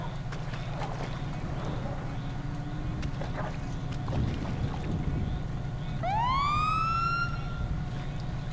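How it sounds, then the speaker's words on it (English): A police siren in a GTA 5 snowy camping roleplay scene sweeps upward in a clear rising wail over steady engine and wind rumble, arriving late and fairly loud. "I heard their sirens."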